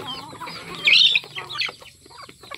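Pet chickens clucking close by, a few short calls with one louder burst near the middle, over a quiet background.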